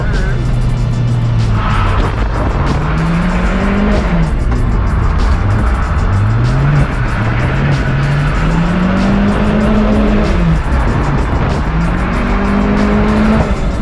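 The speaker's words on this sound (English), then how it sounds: "I feel like today is just slow-mo drifting." A drift car's engine revs rise and fall continuously with tire squeal and skidding, loud and close throughout, as people talk over it.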